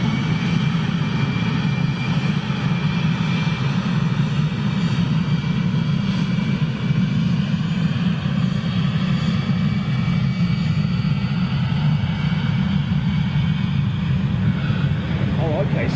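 Large jet airliners such as a Boeing 747 and an A350 at Lisbon airport produce a continuous, steady engine roar lasting throughout, with a person talking over it.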